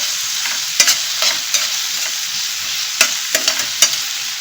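Chopped onion and curry leaves sauté in a hot pan under a constant bright sizzle, punctuated by several sharp spatula scrapes and clacks at irregular intervals, close and without speech.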